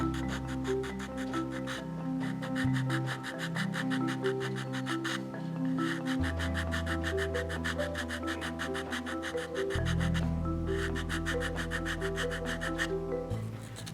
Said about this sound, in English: first I use a rough file to remove the bulk material faster